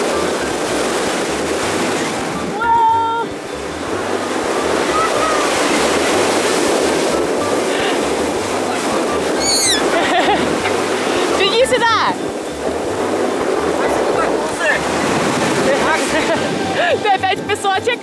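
Ocean surf breaks steadily on a beach, a continuous loud wash of water with wind rumble, while excited voices call out over it throughout.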